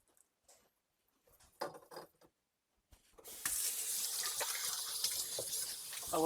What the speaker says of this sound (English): I'm going to rinse the cutting board